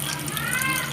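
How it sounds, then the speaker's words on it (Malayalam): Tamarind water poured into cooked yam in a pressure cooker, a brief steady gushing splash of liquid, close and continuous for about a second. "പുളിവെള്ളം ഒഴിച്ചു കൊടുക്കാം."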